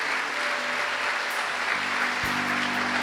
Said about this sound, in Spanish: Dele fuertes ofrenda de palmas al Señor